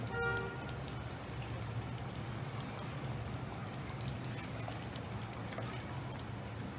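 Coconut oil poured into a cooking pan for a Hyderabadi-style stuffed aubergine dish, a steady liquid pour and sizzle running continuously at moderate level, with no talk over it.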